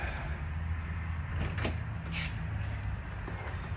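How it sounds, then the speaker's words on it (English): A DeLorean's gullwing door is opened and closed, a soft mechanical sliding and latching sound under a steady background hum, fairly quiet and close. "I'll come over here and you can see the door operation"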